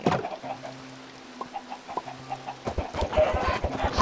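Chickens in a pen in a Minecraft-style video game cluck in short, repeated bursts, close and fairly loud, growing busier and more rhythmic toward the end, with no speech.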